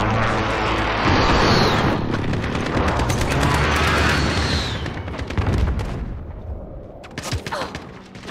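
An airstrike in the video game Call of Duty: Modern Warfare: loud, sustained rumbling blasts and gunfire fill the first several seconds, then fade into scattered, lighter shots near the end.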